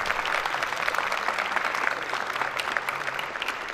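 Students at a university commerce department welcome party in Multan clapping, a dense, steady wash of applause holding at even loudness with scattered individual claps.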